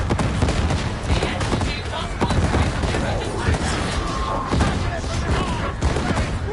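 Grenades going off in Warhammer 40K Darktide while playing an Ogryn Skullbreaker on PS5: a steady barrage of loud, overlapping bursts and rattling gunfire-like cracks throughout, with a voice speaking over the battle.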